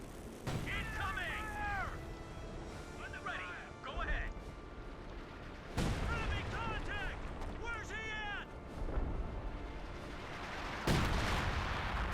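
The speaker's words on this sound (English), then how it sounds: "Basically, they're taking hits from the 105mm howitzer." Artillery fire from a 105mm howitzer in Company of Heroes 2 booms repeatedly amid battle noise, with sharp broadband impacts around the middle and end, under steady commentary speech throughout.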